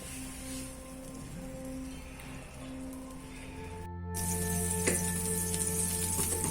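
Butter melts in a hot pan for a matar paneer masala, giving a soft, steady sizzle and crackle. It grows slightly louder partway through, with no voices.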